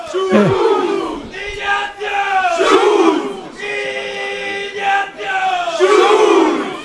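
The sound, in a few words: local football fans celebrating a goal by Schulz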